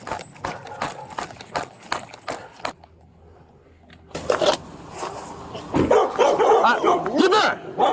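Two dogs bark outdoors along a dirt road, sharp repeated barks in quick bursts, a pause, then more barking mixed with a person talking.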